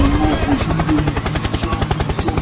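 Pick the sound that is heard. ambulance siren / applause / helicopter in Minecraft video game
helicopter in Minecraft video game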